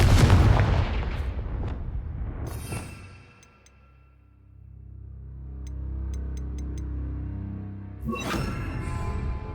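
Confringo fire spells burst in Hogwarts Legacy gameplay, with a heavy explosive boom at the start, a few sharp crackling blasts, and a rumbling tail with scattered metallic pings, no speech.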